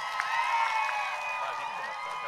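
A crowd at a political campaign rally in Udon Thani, Thailand, cheers and claps in a dense, continuous burst, with shouts and whoops rising over the noise for a couple of seconds.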